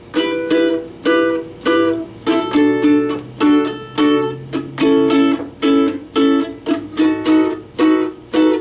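Guitar chords strummed in a steady rhythm, about two strums a second, close and clear, moving through a chord progression with no voices.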